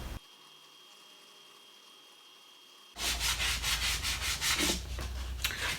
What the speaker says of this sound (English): sanded it by hand with 80 grit, and now I'm using 180 to sand it